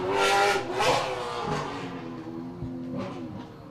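Moles Motorsport 135 Razorback race car on a tarmac rally stage, its engine note rising and falling with rough, missed paddle-shift gear changes, loud and close with no talk.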